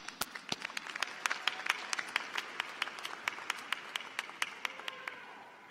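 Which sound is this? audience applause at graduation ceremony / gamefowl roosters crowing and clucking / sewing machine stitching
audience applause at graduation ceremony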